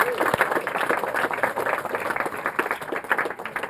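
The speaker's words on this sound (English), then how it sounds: "another round of applause for the parents" Wedding guests applaud steadily, a dense patter of many hands clapping in a room, moderately loud and sustained.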